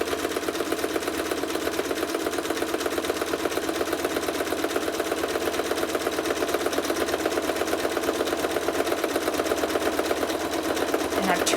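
A sewing machine runs continuously, stitching closely spaced switchback lines on a quilt, a fast even mechanical rattle that stays steady and fairly close throughout with no pauses.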